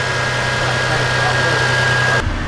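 A truck idles after a radiator change, giving a steady, loud low rumble with a faint whine above it that cuts off abruptly near the end.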